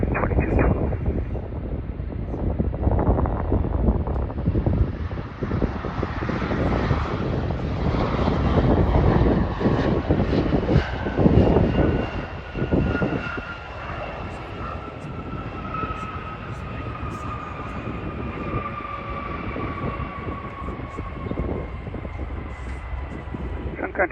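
An airliner lands on runway 12 right at Minneapolis in spring, a loud, sustained jet roar with whining engine tones that slowly fall and ease off, steady throughout the clip.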